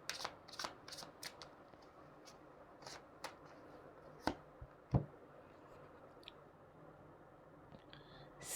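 Tarot cards are shuffled by hand in quiet, close bursts of riffling and flicking, a few quick clusters spread across a near-silent room.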